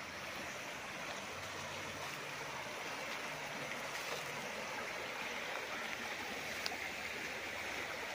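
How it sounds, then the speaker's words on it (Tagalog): Steady rush of running water from a stream on a farm lot in Liliw, Laguna, a constant broadband wash that holds an even level throughout with no voices. "Running water yan mga kapraps."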